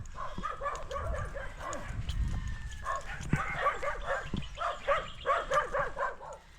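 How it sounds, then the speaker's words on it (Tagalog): Many dogs bark in a rapid overlapping chorus at a house in the Philippines, loud and fairly close, with rustling footsteps and faint voices mixed in. "Daming aso guys."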